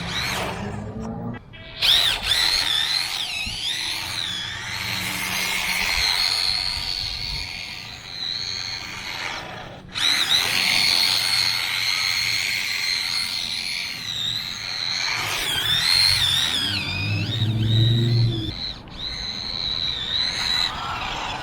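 A $50 LDRC 1/18 Honda NSX RC drift car with gyro drives on a poor surface, its small electric motor giving a steady high-pitched whine that rises and falls with throttle, briefly cutting out a few times.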